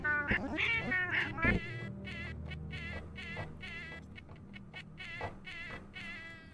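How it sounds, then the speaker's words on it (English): Repeated meows from a friendly cat in the video game Spectral Mall, a series of short, fairly loud cries in quick succession, some strained and yowling, over a low steady background hum. "Oh, it's our friendly cat friend again."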